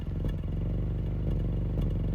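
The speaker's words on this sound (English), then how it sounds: "listen to the exhaust." Exhaust of a 1994 Honda Civic VX engine with a slight stumble, a close, steady idling putter with a few brief irregular hiccups breaking the even rhythm.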